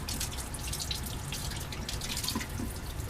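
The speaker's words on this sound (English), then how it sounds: "We're just going to rinse that with water." Tap water runs steadily over lab glassware being rinsed after an acetic acid bromination, a continuous broadband splashing wash with faint drips, close and alone.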